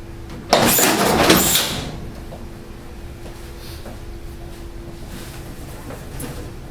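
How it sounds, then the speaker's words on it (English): A Samuel P702 automatic plastic strapping machine runs a strap cycle: a loud mechanical whir and swish lasting about a second, followed by a steady low motor hum with faint clicks. "You can activate a strap cycle by using the foot bar,"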